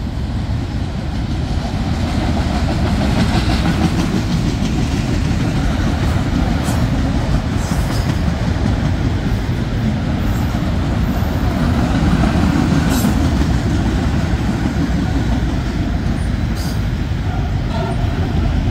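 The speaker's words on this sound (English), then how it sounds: "This is CN E271 auto rack drain." CN E271 freight train of auto racks, apparently empty, passing at milepost 49 in Halton: a loud, sustained rumble with rhythmic wheel clatter and occasional metallic squeals throughout.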